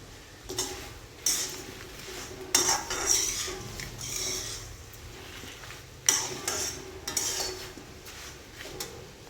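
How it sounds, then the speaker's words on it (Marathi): Dry-roasting Satari goda masala spices in a pan: intermittent scraping and clinking of a spoon against metal, with a few sharper clinks over a quiet background. "आता मसाला छान भाजत आला."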